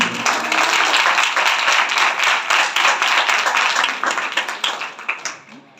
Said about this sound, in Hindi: हम जोर से ताली बजाएं